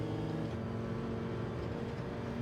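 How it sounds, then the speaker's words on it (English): A Mercedes-AMG GT3 race car engine in Gran Turismo 7 drones at a steady, fairly constant pitch, a continuous, close, rich mechanical hum with no talking. "That AMG sounds absolutely stunning."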